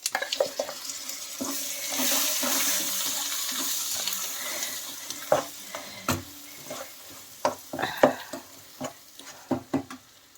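Capsicum roti chutney fries in a hot pan, starting as a soft continuous sizzle and then breaking into sharp, irregular clacks and scrapes of stirring toward the end.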